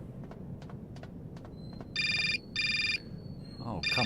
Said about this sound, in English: Phone's always ringing.